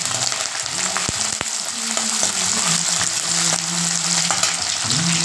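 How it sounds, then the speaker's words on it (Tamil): Garlic and curry leaves fry in hot oil, a loud continuous crackling sizzle with a few sharp pops and occasional stirring scrapes, close up and without talk. "இது எண்ணெயில் ஒரு ரெண்டு நிமிஷம் அப்படியே நல்லா வதங்கட்டும் கூடவே கருவேப்பிலை போட்டுக்கோங்க"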